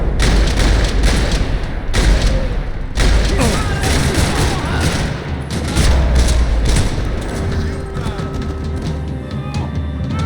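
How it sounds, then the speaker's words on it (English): In Max Payne 3, gunfire rattles across a parking lot: loud bursts of rapid shots and heavy booms, broken by brief pauses, with echoing impacts and a tonal hum toward the end. "Another parking lot rattling with gunfire."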